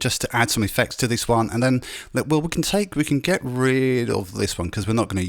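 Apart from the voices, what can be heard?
No everyday noises stand out.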